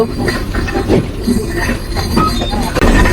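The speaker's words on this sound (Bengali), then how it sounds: "আমাদের ট্রেনটি এখন হার্ডিং ব্রিজে প্রবেশ করবে" An express train in Bangladesh rolls steadily onto the Hardinge Bridge with rhythmic wheel clatter and occasional metallic squeals, loud and close throughout.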